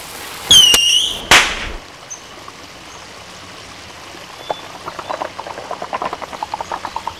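A signal flare is fired in a martial arts action film scene: two sharp whooshing launches, then a faint crackling fizz and a string of small pops as it burns overhead.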